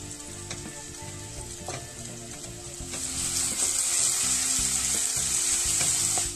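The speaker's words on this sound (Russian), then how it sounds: "мы обжарим болгарский перчик" Steady frying sizzle of bell peppers in a hot pan, growing louder partway through, with occasional stirring clatter underneath.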